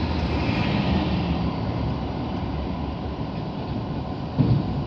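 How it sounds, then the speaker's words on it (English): A continuous rumbling roar of a passing elevated SkyTrain in Surrey, British Columbia, steady and fairly loud throughout, with no voices. "There is a train."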